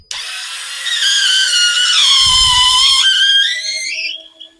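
WORX WX242 4 V cordless screwdriver working a stuck screw at maximum torque, its motor whining steadily for about four seconds, the pitch sagging under load then climbing again, close by with no talking.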